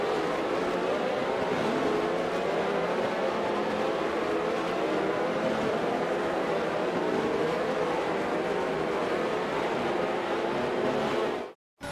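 F1 cars on the formation lap in Montreal in the F1 22 racing game, a steady, fairly loud engine drone and rumble holding throughout before cutting off abruptly at the end.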